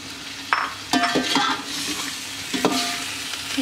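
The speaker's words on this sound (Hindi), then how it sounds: "इसको मैं अच्छी तरह से तल लूंगी चिकन को तेज फ्लेम करके।" Chicken fries over a high flame in oil with green chillies for Sindhi biryani, giving a loud continuous sizzle broken by sharp clinks and scrapes of a spoon stirring in the pot.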